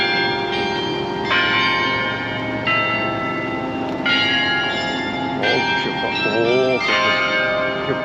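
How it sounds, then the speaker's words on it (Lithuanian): Bells hung on a rooftop in Riga's old town ring out in a continuous, layered peal of bright metallic tones, with new strikes entering every second or so and sustained ringing throughout, loud and steady. "Kėlai varpeliai ant stogo, pasirodo, jie skamba"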